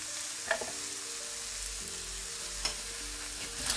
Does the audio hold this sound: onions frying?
yes